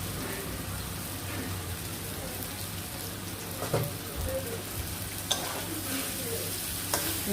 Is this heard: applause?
no